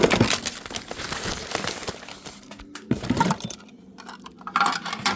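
Loose change in a bin of a storage unit being stirred and handled, scattered metallic clinks and rattles close by with soft rustling in between, uneven and moderately quiet.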